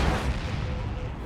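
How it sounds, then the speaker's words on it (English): A Vanquisher Cannon firing in Warhammer 40,000: Dawn of War 2 during an Imperial Guard versus Tyranid match, a heavy rumbling blast with a sustained booming roar that fills the whole short moment. "Vanquisher Cannon says no."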